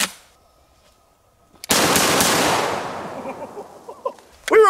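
A triple-barrel shotgun fires Remington 2 3/4 inch double aught buckshot outdoors: after a quiet lead-in, a sharp loud blast decays over about two seconds, followed by a few faint echoes and a final burst.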